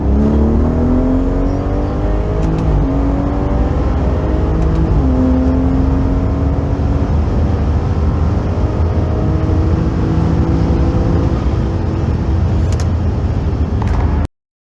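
A BMW 340i with a B58 engine tuned to Stage 2+ pulls hard from 60 to 130 mph on a private raceway. The loud, continuous engine roar climbs steadily in pitch, with a brief dip at a gear shift and no talk.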